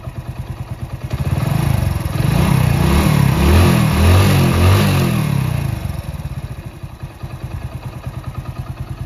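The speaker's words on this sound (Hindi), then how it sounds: "इसके पिस्टन की जो साउंड है बहुत ही बेहतरीन स्मूथ साउंड हो जाती है" A Hero Splendor motorcycle engine with a new piston runs close by, idling with a rapid even putter free of piston ticking, rising into a smooth rev in the middle, then settling back to idle.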